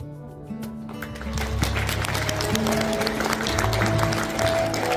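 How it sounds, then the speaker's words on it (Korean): Applause from guests at a Korean wedding ceremony as the parents enter, clapping building from soft to a steady, moderate level over a background of music. "양가부님께서 입장하실 때 뜨거운 눈빛과 힘찬 박수로 맞이해 주시기 바랍니다."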